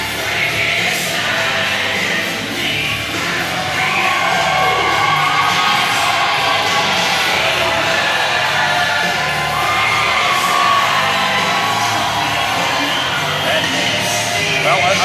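Capacity crowd at a hardcore wrestling match in Hastings cheering, whooping and shouting for wrestler Nick Hayez, a dense, continuous roar throughout.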